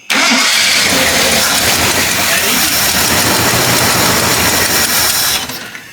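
An old Jeep engine that had sat unused for 25 years cranks and catches, then runs loud and rough and close for several seconds before dropping off, with people talking around it.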